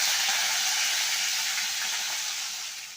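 A hot-oil tempering of fenugreek seeds, small dried red chillies and curry leaves for dal palak crackles and sizzles loudly and steadily up close, then eases off slightly toward the end, with no voices.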